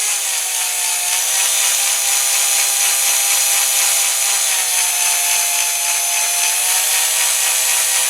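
A 2mm drill bit in a power drill works slowly through the metal posts of a Dinky Toys model refueller, giving a continuous close whirring whine with slight pitch wobbles, unbroken for several seconds and free of speech.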